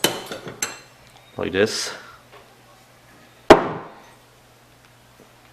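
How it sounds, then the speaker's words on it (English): Metal hammer blows on a punch knock out rivets from a Subaru AC compressor clutch plate, with a few light taps, then a ringing strike and one sharp loud impact, close up, while someone briefly speaks. "you put the punch on the rivet and then you just punch it out"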